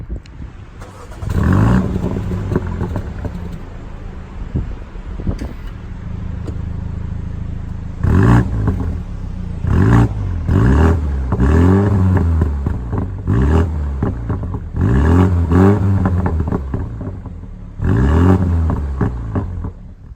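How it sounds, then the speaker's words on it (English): A 2020 BMW M135i xDrive sends repeated revs through its valved exhaust, a sequence of sharp rising and falling bursts with a steady idle between, loud and close with no talk. "When you put your foot down, that little valve in there is going to open, meaning both exhausts will breathe fully."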